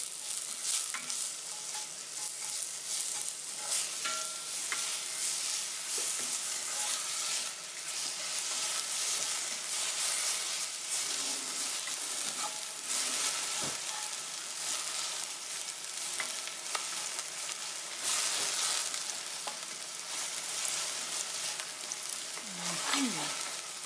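Sugar is stir-fried in a pan for double cooked pork belly: a constant close, bright sizzle runs throughout, with scraping stirs and small clicks scattered across it.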